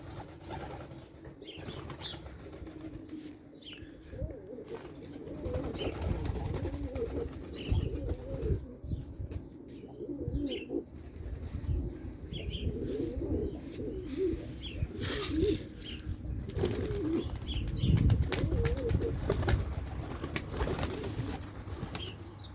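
Çorum naked-neck pigeons coo steadily and beat their wings as young birds go outside for the first time, a dense, constant flock murmur with bursts of flapping, close by and without speech.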